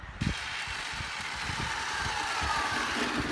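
Traxxas Slash 4x4 RC car running on 4S power during a speed test, a steady high-pitched electric motor whine that holds level and swells slightly as the car comes back, with no talking.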